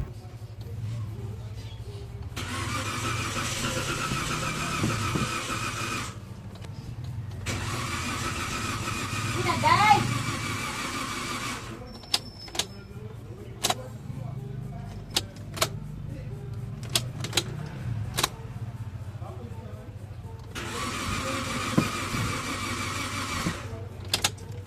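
A 2015 Toyota Avanza engine cranks repeatedly without starting, three long starter-motor whirring bursts separated by pauses, with scattered clicks and small knocks between them, close and clear.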